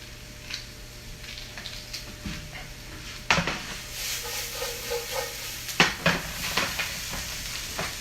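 Food sizzles steadily in a pan over medium heat, a continuous close frying hiss punctuated by the clatter of a utensil stirring and knocking against the pan.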